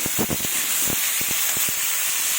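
Rohu fish fries in oil in a covered pan over medium heat, giving a steady bright sizzle and hiss with scattered pops and crackles.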